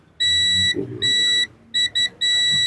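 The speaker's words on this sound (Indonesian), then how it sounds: "Ini saya pakai buzzer ya. Nah, ini bunyi." An electronic buzzer for a Polytron Zero Matic washing machine alarm sounds in shrill tonal bursts: two long beeps, then two short ones, then a longer one, close and loud.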